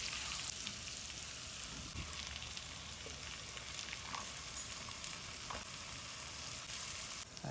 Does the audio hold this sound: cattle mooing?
no